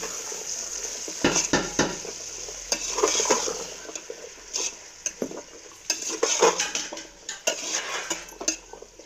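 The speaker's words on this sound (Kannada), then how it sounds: "ಚೆನ್ನಾಗಿ ಫ್ರೈ ಆಗ್ತಾ ಇದೆ ಕಾಣ್ತಾ ಇದೆ ಅಲ್ವಾ" Mixed vegetables for a drumstick pulao fry in a pan under a constant sizzle, while a metal spoon stirs them with frequent scrapes and clinks, close and busy throughout.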